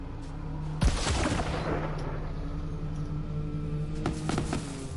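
Fearmonger weapon firing in Borderlands 3, with dense sharp gunshot cracks and rumbling explosions layered over constant game ambience, a burst near the start and another cluster near the end.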